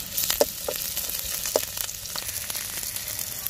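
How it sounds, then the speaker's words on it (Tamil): Curry leaves hit hot oil in a pan of village-style mushroom gravy, giving a steady crackling sizzle with a few sharper pops near the start, close and fairly loud with no talk. "இப்போ கருவேப்பிலை போட்டுக்கலாம்."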